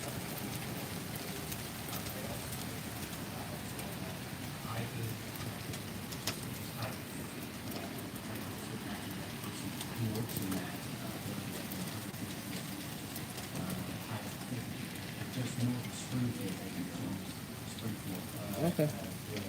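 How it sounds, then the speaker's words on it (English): Hail and heavy rain fall during a thunderstorm in Omaha, Nebraska, giving a dense, continuous patter with scattered sharp ticks of stones hitting surfaces, while voices talk faintly underneath. "it's hailing now again. Really bad."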